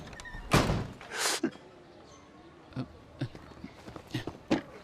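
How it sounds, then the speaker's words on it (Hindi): A door shuts with a loud thud near the start, and a second heavy knock follows, then smaller scattered knocks and footfalls in an indoor scene. "तुमने दरवाजा क्यों बंद किया?"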